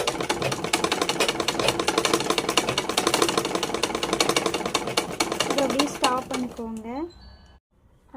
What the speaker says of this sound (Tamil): மெதுவாக தையல் போடுங்க ஸ்ட்ரெயிட்டாக தையல் போடுங்க